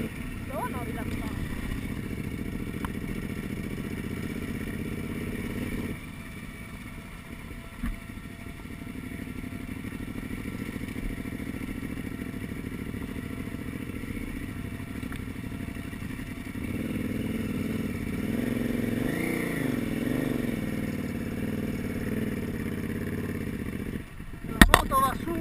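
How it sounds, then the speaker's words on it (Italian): A motorcycle climbs steadily uphill on an Alpine off-road ride in the Carnic Alps, its engine droning continuously with some clatter, while two people talk over the ride. "La moto va su"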